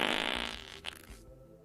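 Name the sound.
fart sounds imitated with the mouth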